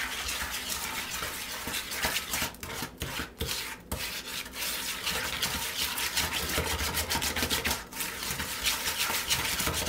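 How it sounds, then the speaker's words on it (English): Gingersnap cookie dough beaten with a spoon in a bowl: continuous close scraping and rasping strokes in a steady rhythm with brief pauses, no talking. "So now you're going to beat that well with your spoon."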